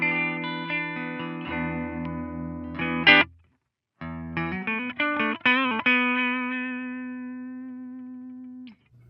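Electric guitar chords from an Ibanez AX7221 seven-string after a Black Tusq XL nut replacement, ringing through effects in two strummed phrases separated by a short silence, loud and sustained with no talking.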